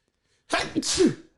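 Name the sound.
sneeze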